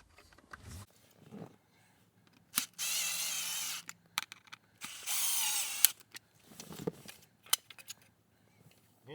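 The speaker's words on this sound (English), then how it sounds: "now I just need to install those 2 screws there, the T20s" An electric driver runs T20 screws into a Tesla Model 3 rear controls screen in two loud, buzzing bursts of about a second each, framed by softer clicks and handling noises.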